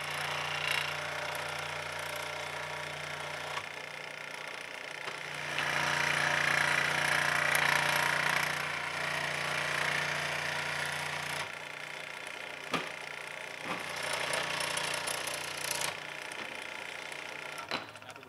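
Pieces of 1-inch pine wood being cut with a power saw, a faint, steady whine that rises into a louder cutting passage midway, then eases with a few sharp knocks toward the end.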